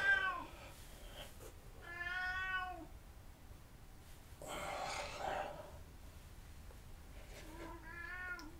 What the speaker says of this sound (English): I will let the cat in